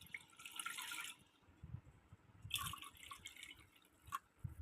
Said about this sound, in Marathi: तर 2 ग्लास पाणी मी आता कुकरमध्ये टाकून घेतले